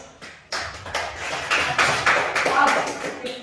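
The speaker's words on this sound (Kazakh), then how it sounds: "Ал, қол шапалақтаймыз." Children in a primary school classroom clap their hands together, a burst of uneven, close claps and taps running steadily for a few seconds with light classroom noise around them.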